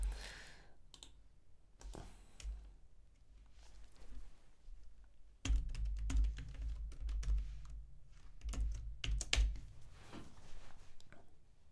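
Typing on a computer keyboard during installation of ZeroBrane Studio for Lua programming, with irregular bursts of close, crisp key clicks and short pauses in between.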